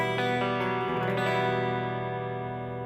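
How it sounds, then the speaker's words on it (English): Clean electric guitar tone played through an amplifier, a few picked notes and a chord ringing out with a slight reverb tail, moderately quiet and with no voices. "So I have a clean sound on the guitar right now"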